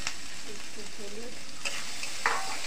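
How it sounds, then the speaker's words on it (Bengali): Cumin paste and turmeric frying in a little oil, a steady close sizzle with stirring scrapes and a few brief louder spatters near the end, no voices. "একটু তেলের উপরে ভেজে নিতে হবে।"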